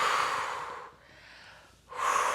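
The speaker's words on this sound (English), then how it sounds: "Breathing in through the nose and out through the mouth." A person doing Pilates breathes audibly, a long airy exhale, a quiet pause, then another strong breath, close and alone.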